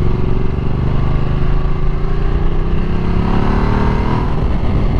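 A Ducati Multistrada 1200S motorcycle engine hums loud and steady while riding, its pitch climbing slowly as the bike picks up speed, with constant wind rush.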